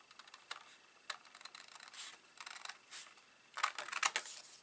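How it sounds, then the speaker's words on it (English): Card being cut along its score line while making a Double Diamond fold card: quiet, crisp snipping and scraping strokes in uneven bursts, louder toward the end, with no talking. "I'm going to cut along the score line first"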